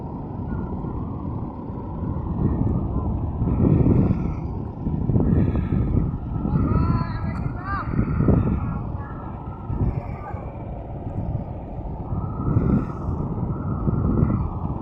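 A ferry boat waiting to cross the Padma river toward Char Khanpur, its low engine and water rumble steady and moderately close, with people talking nearby throughout.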